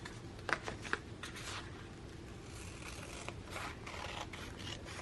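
Scissors snip edge-to-edge planner stickers from a sticker sheet: two quick, faint close snips, then soft rustling of paper over a low background hiss.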